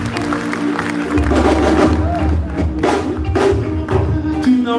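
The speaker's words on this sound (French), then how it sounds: "On l'applaudit s'il vous plaît." A concert audience applauds and cheers an artist in a loud, dense wash of clapping and crowd noise.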